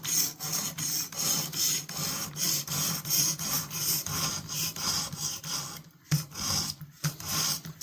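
Rhythmic rasping strokes of a knife edge drawn across an 800 grit stone on a Xarilk XAR-FS1 sharpener, close and regular, with a brief pause near the end.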